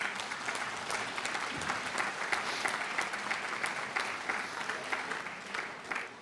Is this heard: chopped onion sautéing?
no